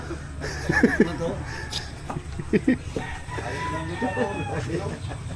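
Chickens cluck and squawk nearby in short bursts, with people talking in the background.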